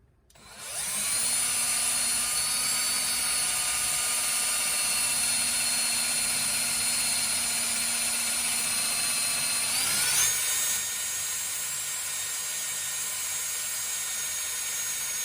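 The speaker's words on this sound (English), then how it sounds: "I'm just kind of letting it drill in" Steady, loud high-pitched whine of a drill boring into a KMC beadlock wheel, running continuously, with a slight shift in pitch partway through as the bit bites deeper.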